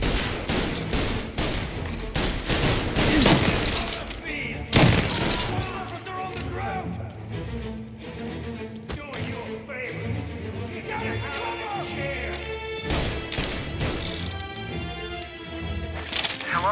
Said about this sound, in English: All on duty officers, gunshots being reported.